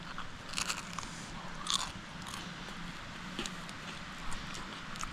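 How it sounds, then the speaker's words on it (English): Crunching bites of trail food, close and fairly quiet, a few sharp crunches spaced irregularly over steady outdoor background noise. "See if you can hear this crunch."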